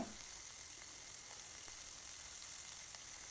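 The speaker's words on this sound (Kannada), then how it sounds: "ಮಸಾಲೆ ಪದಾರ್ಥನ ಹಾಕ್ಕೊಂಡು ಸ್ವಲ್ಪ ಎಣ್ಣೆಲಿ ಫ್ರೈ ಮಾಡ್ಕೊಳ್ತಾ ಇದ್ದೀನಿ" Spices and split dal fry in a little oil, a soft, even, continuous sizzle heard close and alone with no talking.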